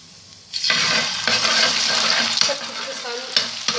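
Oil and salt sizzle loudly on a hot tava griddle, a dense close hiss that starts abruptly and holds steady, with a few scraping clicks and no talking.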